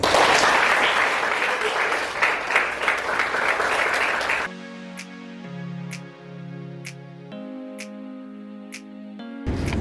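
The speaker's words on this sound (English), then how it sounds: "Okay, give applause to Group 6." An audience of students in a classroom applauds a student presentation group in a dense burst of clapping for about four seconds, which cuts off abruptly as a steady instrumental music track begins.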